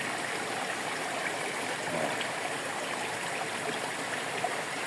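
Water flowing at Kabuayahan Falls, a steady broadband rush of stream water running continuously and evenly throughout, close by, with no voices.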